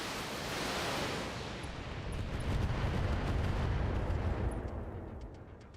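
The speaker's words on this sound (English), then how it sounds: "I'm gonna lob a whole lot of missiles at this guy" A mech fires a heavy salvo of missiles in the BattleTech video game. It makes a continuous rumbling, roaring blast of noise that swells and rolls for several seconds, then thins out near the end.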